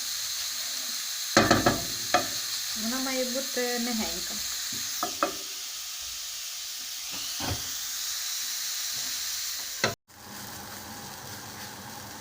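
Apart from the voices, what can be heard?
vegetables stewing and sizzling in a covered pan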